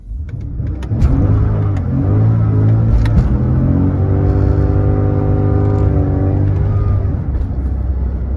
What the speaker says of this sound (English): you can still do burnouts with the car. Just for the sake of experiment, I'll show you.